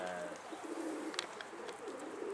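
A racing pigeon named Sabun cooing in a loft area, a soft low coo repeating over faint background bird chatter and ambient noise, with a brief brighter chirp near the middle.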